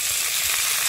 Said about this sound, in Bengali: এখন এই তেলের মধ্যেই আমরা ভেজে নেব পেঁয়াজ, তার সাথে রসুন